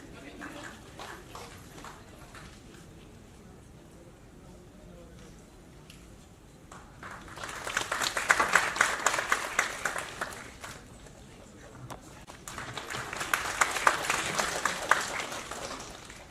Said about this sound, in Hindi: give a big round of applause for Honorable Sachin sir